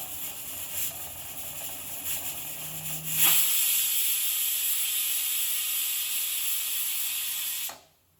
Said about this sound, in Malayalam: അത് അടിച്ച് കഴിഞ്ഞിട്ട് എയർ പോയിട്ട് ഞാൻ തുറക്കും.